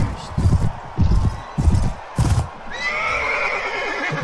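Horse neighing in the video game Mount & Blade Warband, several whinnying bursts in a row followed by a steady hiss of ambient game sound.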